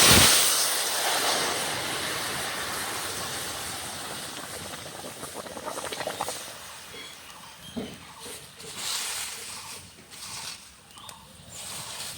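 Dry red chillies, mustard seeds and dal hitting hot oil for tempering, opening with a loud, hissing sizzle that gradually fades, with scattered crackles and spits.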